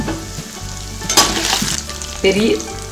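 Pearl millet roasting in a pan on a medium flame, a close, fairly loud frying hiss with scraping stirs and a couple of sharper clinks.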